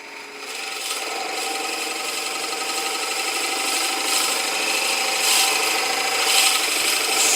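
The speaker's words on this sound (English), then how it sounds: "We turn our tailstock knob in order to advance the bit." A Forstner bit bores into wood on a lathe during small box turning, a continuous loud rasping, scraping grind that swells slightly as the bit is advanced.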